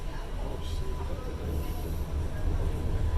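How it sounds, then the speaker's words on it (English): A subway train runs with a steady rumble and a faint metallic squeal, heard from inside a car in Toronto heading toward Yorkdale Station. The noise fills the whole stretch at an even level. "we decided to take the subway home"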